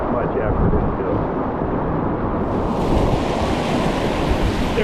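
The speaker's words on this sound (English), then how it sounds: "There are some surfable waves here." Rushing water of the Middle Ocoee river's Class III rapids and surfable waves, a loud continuous broadband roar heard from a moving kayak, with wind buffeting the microphone.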